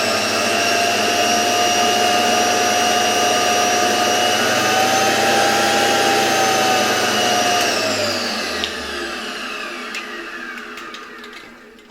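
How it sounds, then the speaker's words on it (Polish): A 1928 Electrolux XI vacuum cleaner runs on a reduced 50–60 volt supply with a steady motor whine and rushing airflow; near the end the motor winds down and the roar fades. "Czuć tutaj wyraźnie wylatujące powietrze z tego odkurzacza"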